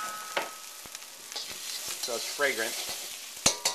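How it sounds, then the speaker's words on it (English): Black beans, pepper, garlic and ginger stir-fry in a hot pan with a loud continuous sizzle and scraping stirs, while a voice speaks briefly over it. "First we're going to put in the black bean with the pepper, garlic, and ginger in there."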